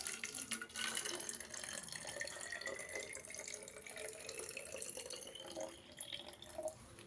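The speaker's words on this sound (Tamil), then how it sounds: "ஓகே, அது வாட்டர் வந்து ஊற்றியாச்சு." Water trickles and splashes into a plastic bottle for a water pump experiment, a close, quiet, steady pour with gurgling shifts in tone as the bottle fills.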